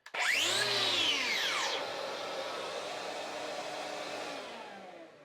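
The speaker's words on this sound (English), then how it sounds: "you can hear the vacuum carries on running a short period of time after the chase is finished" A wall chaser whines loudly and spins down over about two seconds, leaving a DeWalt M-Class vacuum droning on steadily by itself until it cuts off at the end.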